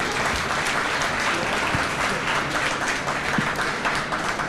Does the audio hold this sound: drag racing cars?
no